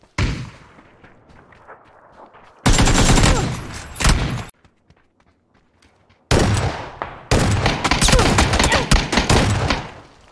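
Bursts of rapid gunfire come in loud, dense volleys separated by quieter gaps with faint background sounds, like shooting in a game.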